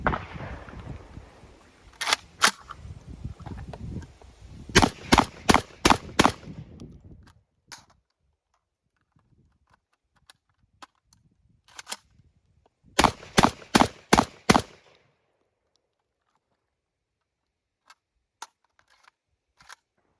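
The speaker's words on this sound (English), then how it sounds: "we're going to try and run 2 full 5-round mags and see how that works." A JTS AK12 M12AK-T1 airsoft shotgun firing two 5-round magazines: sharp, loud cracks in two groups of five, each shot followed by a mechanical clack, with mechanical handling noises between them.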